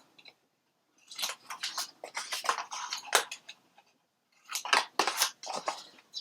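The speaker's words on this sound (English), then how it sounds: "laying the scissors against the side of the chipboard and angling in." Scissors snipping through chipboard at an angle while mitering a piece for a flower box album: two bursts of close, crisp cutting strokes separated by a short pause, with no talking.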